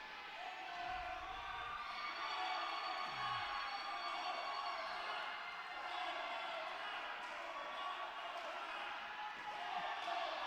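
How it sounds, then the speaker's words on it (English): A wrestling crowd fills the arena with steady, loud noise, chanting and booing, with a thud heard briefly early on. "The crowd is chanting one more time. Half of them are, and half of them are booing Michael Judas."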